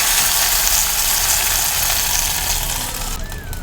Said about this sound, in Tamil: தாளிப்பை இதோட சேர்த்துடலாங்க கடுகு கருவேப்பிலை